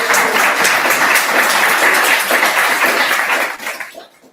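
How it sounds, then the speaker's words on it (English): A crowd at a celebration of life in the Bridge Art Gallery breaks into loud, dense applause that fills the room, then fades out. "Let's give a round of applause to the Bridge Art Gallery for allowing us to have time here today"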